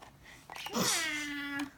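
A domestic cat gives a single drawn-out meow, rising then sliding down in a long clear tone, close and fairly loud, with a faint voice just before it.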